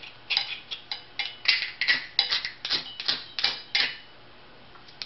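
A fire starter rod struck repeatedly with a K-Bar K2 folding knife gives a series of sharp, close scraping strikes in quick irregular succession, about a dozen rasps with no talking.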